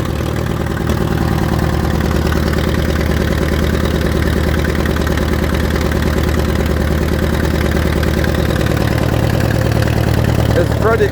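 A tractor engine idles on a cold morning, a loud, steady, close chugging drone with a rapid regular pulse and faint mechanical clatter, holding unchanged throughout, with voices talking over it.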